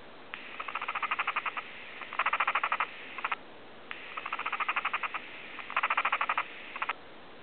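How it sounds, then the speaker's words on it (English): Angry guinea pig giving rapid rattling chatter, four pulsed bursts of fast clicks, each lasting about a second, close and distinct over faint background hiss. "when guinea pigs are angry, they make this kind of noise."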